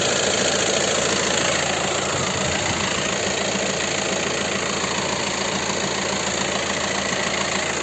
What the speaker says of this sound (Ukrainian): двигун працює ідеально рівно, без нюансів взагалі